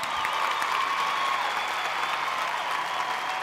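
An award-show audience claps steadily, a dense, even wash of applause with no pauses or voices.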